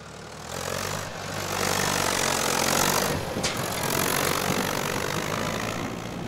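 A Fiat Someca 715 tractor engine running, a loud steady droning roar that swells and holds, heard up close with no talking over it.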